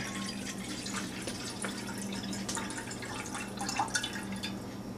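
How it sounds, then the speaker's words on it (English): Duck broth drips and trickles through a cut-down cheesecloth set inside a kitchen strainer, a steady close patter of small liquid drops with a few brighter splashes, no talk over it. "I'm going to go and use a cheesecloth that I cut down to put inside my strainer"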